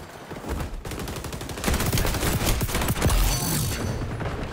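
Rapid automatic fire from an MP7 submachine gun in the shooter game XDefiant, dense bursts of gunshots running nearly continuously and growing louder toward the middle, with booming impacts mixed in.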